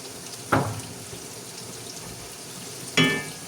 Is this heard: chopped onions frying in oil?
yes